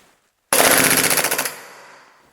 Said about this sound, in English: So, this is the rate of fire of the upgraded pistol.